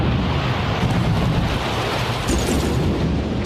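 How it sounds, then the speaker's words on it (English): Bomb detonation in a Thomas and Friends train crash scene, a sustained loud rumbling roar of blast noise that fills the whole clip without a clear onset or decay. "Bomb detonated!"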